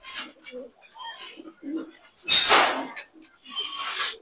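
Pedigreed racing pigeons, including white grizzles bred from Belgian stock, cooing softly in a loft with soft murmuring calls, then a louder burst of rustling noise, then more cooing.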